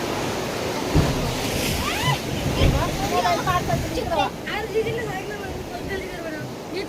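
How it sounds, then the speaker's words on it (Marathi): Sea waves wash around a boat off Diveagar on the Konkan coast in a steady surf roar with wind, as voices and chatter rise and fall over the water noise. "आम्ही आता समुद्रामध्ये आलेलो आहोत आणि समुद्राच्या या सगळ्या लाटेंमध्ये"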